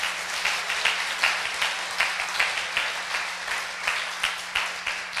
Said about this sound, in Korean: 서로에게 박수를 한번 쳐주십시오.